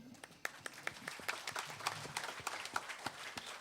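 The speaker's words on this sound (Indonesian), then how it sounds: "Mari kita ucapkan salam dan tepuk tangan buat Gus Farid" An audience claps for a guest at a live band concert in a village lane in Jember, scattered sharp claps thickening into a moderate wave of applause, somewhat distant, with faint voices beneath.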